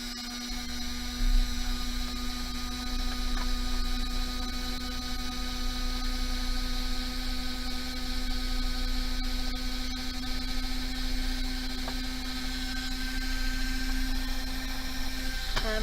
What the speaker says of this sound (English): I have my Dremel that I have put my polishing wheel on, so I'm going to turn that on